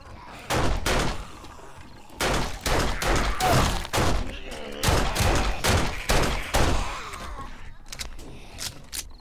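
Gunfire rings out in a zombie fight in 7 Days to Die. Sharp, loud shots and short bursts come in clusters with brief gaps, and heavy thuds are mixed in.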